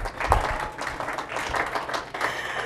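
Light scattered clapping from a small group at a Python programming talk, a brief burst of uneven claps with soft murmurs, fairly quiet and a little distant.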